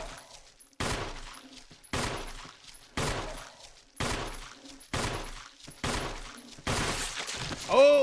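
A run of eight loud, sharp gunshots fired in the Resident Evil Remake video game, spaced roughly one second apart, each with a short decaying tail, ending with a brighter ringing sound.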